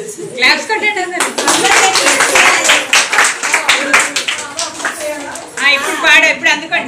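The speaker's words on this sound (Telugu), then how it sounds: "క్లాప్స్ కొట్టండి అందరూ." Audience clapping in rhythm along to a song at a festive Telugu wedding-style gathering, steady loud handclaps with a singing voice and chatter mixed in.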